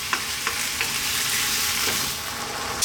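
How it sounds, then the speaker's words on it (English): Chunky tomato sauce bubbles and sizzles in a pan while being stirred, a dense continuous frying hiss with a few light utensil knocks, close and loud, no talking. "Give it a stir every now and then."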